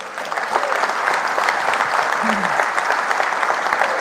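An audience applauds at a Democracy Day speech in Nigeria, a steady, dense wash of clapping at moderate distance with a brief voice heard underneath.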